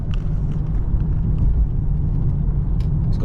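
A V6 Chevrolet F-body car cruises on a freeway, its engine and road noise forming a steady, loud rumble that fills the whole stretch with no talking.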